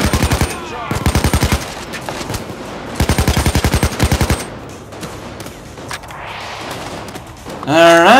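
Automatic gunfire in the Payday 2 heist game, with several rapid bursts of close, loud shots in tight rhythmic volleys separated by short pauses, then quieter game ambience and a rising electronic tone at the end.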